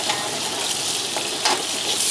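Steady loud sizzling and scraping of seafood with holy basil being tossed in a hot wok over high heat, with occasional sharper clanks, no voices.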